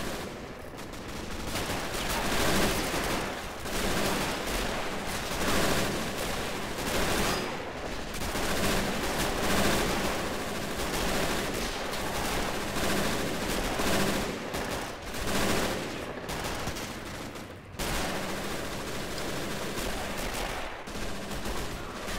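Dense battlefield gunfire from a World War II strategy game: Russian infantry assaulting a German supply base on a hilltop, with continuous rifle fire and machine-gun bursts rattling back and forth, loud and unbroken, with no voices.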